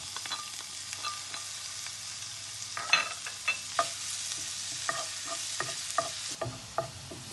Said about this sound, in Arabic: هنا درنا شويه ديال الزبده، غادي نرمي البورو